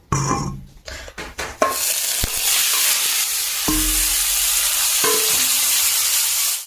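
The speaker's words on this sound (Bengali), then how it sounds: "মাছ ভাজাটা হচ্ছে" Pieces of fish frying in hot mustard oil in a pan give a loud, continuous sizzle after a few clattering knocks at the start, with occasional utensil taps and clinks over the steady crackle.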